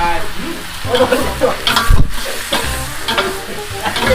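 Spicy duck necks stir-fried in a hot wok over high heat, a dense continuous sizzle with scraping stirs and clanks of the spatula, loud and close, with no voices.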